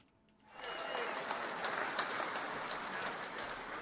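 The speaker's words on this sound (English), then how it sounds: "And listen to the maggots just clap." An audience breaks into sustained clapping and applause on a Wisconsin-linked talk radio program, starting abruptly after a quiet moment and holding steady and loud throughout.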